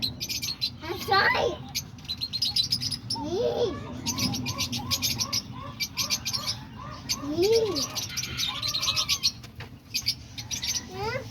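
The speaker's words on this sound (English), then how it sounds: "Yeah, there's all the diamond doves." Diamond doves cooing in a rhythmic series alongside chirps and tweets from other pet birds such as lovebirds, cockatiels and parakeets, a busy aviary chorus heard close up and continuous.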